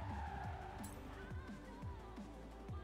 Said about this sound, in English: this engine sounds like every other front wheel drive car in the game